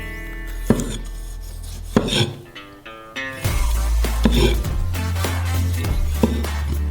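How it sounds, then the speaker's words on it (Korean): A knife chops a tomato finely on a cutting board for a mini pizza filling, giving a handful of sharp, separate taps that stand clear of a steady low background hum. "잘게 썰어주세요"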